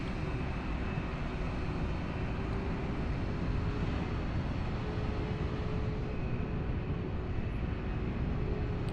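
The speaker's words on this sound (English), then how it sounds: "Another EasyJet 321 Neo in the background taxiing out." An EasyJet A321neo taxiing at Lisbon airport in Microsoft Flight Simulator 2020, a continuous broad engine roar with a steady whine, loud and unchanging throughout with no voices.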